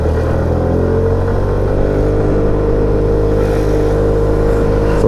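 A Sym Symphony ST200 scooter engine pulls steadily up a cold mountain road, a loud, continuous motor drone with a low rumble that holds at a steady pitch the whole time, with no speech over it.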